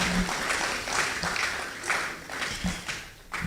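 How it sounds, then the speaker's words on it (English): An audience at a formal lecture gives Ambassador DK a round of applause, a brief burst of many hands clapping at moderate volume in a hall. "Another round of applause for Ambassador DK."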